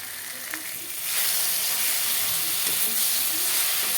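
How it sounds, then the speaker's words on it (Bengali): Tomatoes frying slowly in a pan with mixed vegetarian vegetables and a pinch of asafoetida, giving a steady, close sizzle that grows fuller after the first second and holds evenly to the end. "টমেটোগুলো দিয়ে সুন্দর করে আস্তে আস্তে জাল দিয়ে কষিয়ে নেব।"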